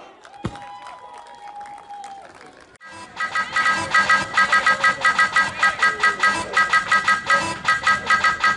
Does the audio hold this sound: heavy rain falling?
no